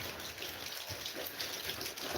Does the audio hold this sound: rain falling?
yes